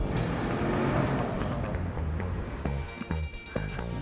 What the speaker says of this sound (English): Ultima's fuel-efficient VC turbo engine hustles like an MVP.